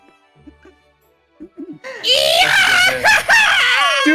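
Person screaming loudly and shrilly in a sustained, wavering cry after a few quieter vocal sounds, close to the microphone during a casual indoor chat among roommates.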